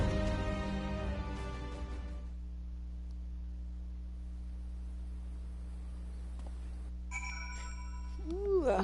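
A phone ringtone in the middle of a Final Fantasy XIV Endwalker session: a bright electronic melodic chime rises faintly over a steady low game-music hum near the end, after a stretch of orchestral score.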